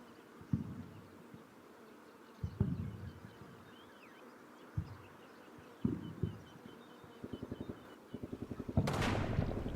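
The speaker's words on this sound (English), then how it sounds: "the mortars finally started firing for effect" Mortars fire in a World War II video game at Grosshau, a scattered series of muffled, distant thumps, followed by a rapid rattling stretch and a louder rushing impact at the end.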